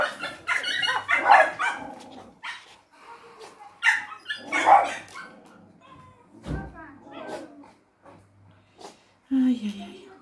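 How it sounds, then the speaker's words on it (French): A neighbour's dog barks, yips and whimpers in bursts while a person talks over it nearby. "Ça, c'est pas mon chien."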